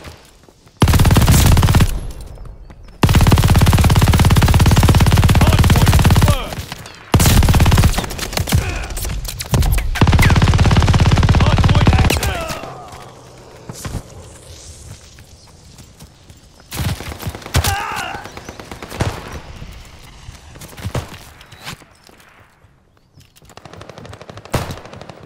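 Gunfire in Warzone: loud, close bursts of rapid automatic fire in several long volleys, followed by quieter scattered shots and game effects.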